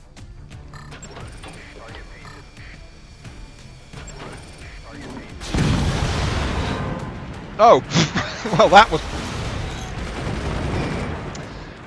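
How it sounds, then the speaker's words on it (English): Cannon fire in the physics-based fort-building strategy game Forts, a sudden loud burst of crashing impact and debris tearing through a structure, followed by several sharp rattling hits, with someone talking over it. "So I just fired the cannon and it just took the top off my own power storage over here."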